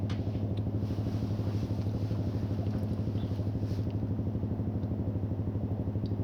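A 2020 Honda Rebel 300 motorcycle with a loud exhaust pulses in a steady, rapid low throb while being ridden, close and continuous throughout.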